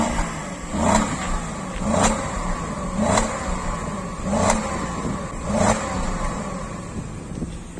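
A Cadillac STS 4.6 V8 Northstar engine revs repeatedly in regular bursts about once a second, a deep throaty roar rising and falling, fairly close.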